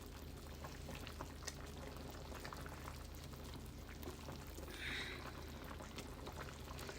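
Sauce of Coca-Cola glaze boiling in a pan, a steady close bubbling and fizzing that runs the whole time without a break and no voices.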